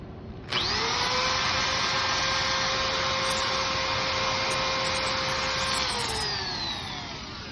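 A power drill drives an external fixation pin into a femur, a close, loud steady whine starting abruptly and holding for about five seconds before winding down and trailing off.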